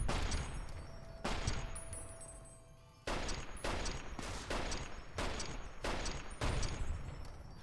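Rapid gunfire in Fallout: New Vegas, a long burst followed by a string of separate loud shots in an uneven rhythm, with no talking.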